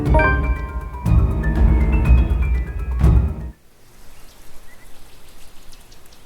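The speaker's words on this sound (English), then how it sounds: "A dreary downpour starts off the Monday." Rain falls steadily in a scene from the game The Letter, first beneath loud tonal music and a few thuds, then continuing softer on its own.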